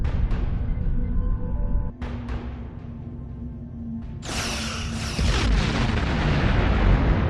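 Heavy starship weapons fire and booming explosions from the Star Trek Online video game, in a dense, loud wall of blasts with a few sharp impacts and a big rumbling detonation partway through, no talking.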